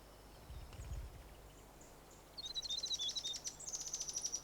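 Small birds sing territorial calls in the breeding season in Fiordland, New Zealand, chirping and trilling in a lively rapid series, fairly close, over quiet background hiss; a low thump sounds early on.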